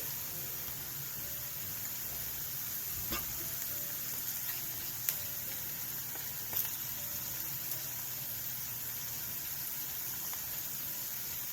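Steady sizzling and crackling of capsicum, powdered spices, minced ginger and garlic frying in a hot pan for chicken tikka masala, a constant hiss with a few faint clinks, no voices.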